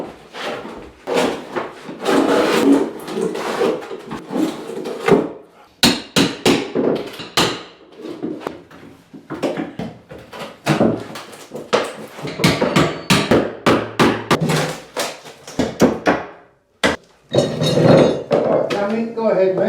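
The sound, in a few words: electrician lifting a floorboard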